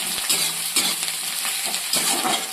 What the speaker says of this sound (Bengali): তেলে কেমন পেঁয়াজ গুলো ফেলে দিলে বাবারি